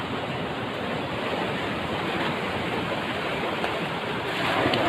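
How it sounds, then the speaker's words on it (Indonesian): Ocean waves washing onto a sandy beach, a steady broad roar of surf with some wind rumble that swells a little louder near the end, with no talking over it. "Ombaknya."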